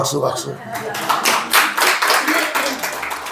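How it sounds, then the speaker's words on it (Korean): Quick rhythmic hand clapping from a small church congregation during a Friday testimony service, close and loud, with a few voices mixed in. "박수."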